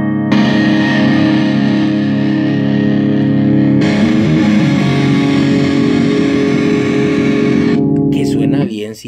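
Clean, unoverdriven tone from a Fender Jag-Stang or Mustang electric guitar, with sustained strummed chords ringing loud and steady for about eight seconds before cutting off abruptly.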